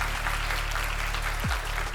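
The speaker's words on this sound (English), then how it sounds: "if y'all don't give that a round of applause" Steady audience applause fills a downtown Baltimore civic gathering, a dense even wash of clapping from a large room, with a brief low thump partway through.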